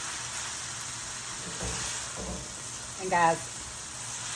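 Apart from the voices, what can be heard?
chicken cauliflower fried rice sizzling in a pan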